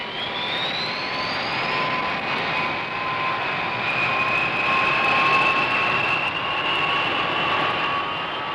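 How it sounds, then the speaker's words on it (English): B-52 bomber jet engines roar steadily as the aircraft taxi out, a loud continuous whine with a rising high-pitched tone layered over broad rumbling noise. "Everything ready, the B-52s taxi out and are soon on their way."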